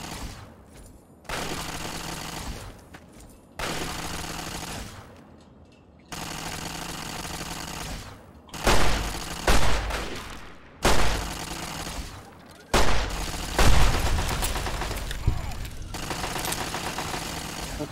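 Automated turrets in the video game Fallout: Tale of Two Wastelands fire in repeated loud bursts of rapid shots, separated by short gaps. Later bursts are punctuated by heavier thumps.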